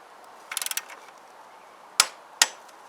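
Scooter bolt on a Kymco Agility being tightened with a torque wrench set to 30 newton metres: a quick run of ratchet clicks, then two sharp metallic clicks a moment apart, close and otherwise quiet.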